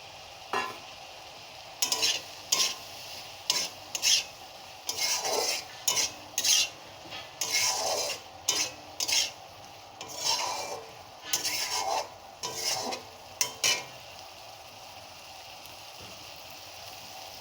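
Previously fried potatoes stirred into a pan of garlic prawns, a spatula scraping and clattering against the metal in repeated short bursts over a low sizzle.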